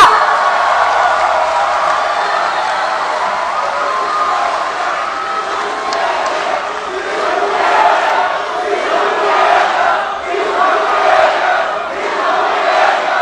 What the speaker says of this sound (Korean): 다시 한번 뜨거운 박수를 부탁드리겠습니다